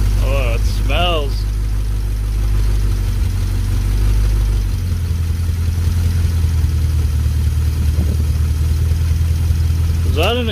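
A revived 1951 Pontiac Chieftain engine idling, a continuous low rumble that shifts slightly in tone midway, with brief voices near the start and end.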